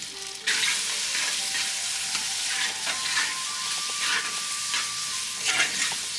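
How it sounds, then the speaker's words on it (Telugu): Thinly sliced onions drop into hot oil with cinnamon, cloves and cardamom for a village-style chicken biryani, setting off a sudden loud sizzle that continues steadily with occasional stirring scrapes. "సన్నగా తరిగిన ఉల్లిపాయలు వేసుకోవాలి"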